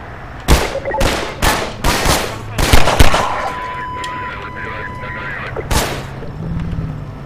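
Gunfire in Half-Life 2 cracks out in loud, sharp shots, several in a quick irregular burst then a lone later blast, with a ringing tone and game sounds between.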